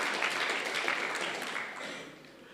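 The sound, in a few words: audience applause for lecture organizers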